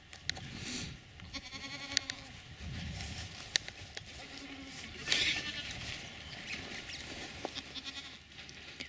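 Goats in a farm pen bleat repeatedly, several loud, wavering calls close by with some overlapping, while people talk in the background between the cries.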